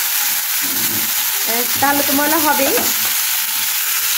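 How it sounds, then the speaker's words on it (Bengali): Fish frying in a pan: a steady, loud hiss and sizzle of hot oil throughout, with someone talking briefly over it. "এই যে মাছ রান্না করবো এখন, মাছটাকে ভেজে নিচ্ছি।"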